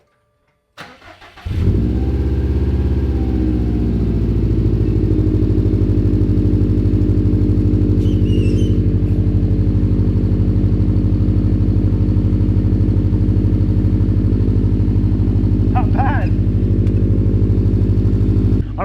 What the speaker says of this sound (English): they come stock with an unequal length header, so it has that soupy rumble